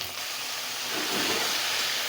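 Mixed leafy greens drop into a hot pan of fried onions, and a broad, loud hiss swells and holds steady. The sound is close, with no voices.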